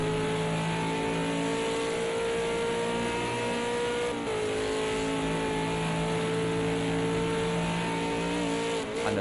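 A V8 Supercar engine at Bathurst in a racing video game, holding a steady high-pitched drone with rising harmonic tones as the throttle is eased on smoothly, loud and continuous with no talk.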